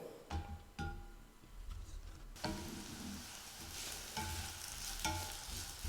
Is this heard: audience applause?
no